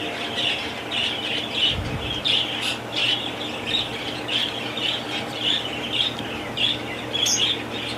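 Many parrots and cockatiels at a Faisalabad bird farm squawk and chirp in a dense, steady chorus of overlapping calls, with bursts rising throughout and no talk.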